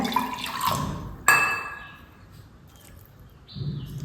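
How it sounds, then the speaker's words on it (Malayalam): Water is poured in short splashes into a bowl of flour and curd for Mangalorean goli baje batter, with brief trickles and quiet gaps in between. "കുറച്ച് വെള്ളം ഇടാം"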